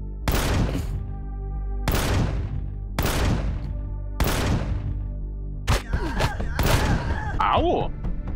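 Gunfire from a hostile creature in the space-survival game Empyrion Reforged Eden, four loud, separate bursts of shots spaced about a second apart, followed by scattered cracks and a squealing, warbling creature or energy sound.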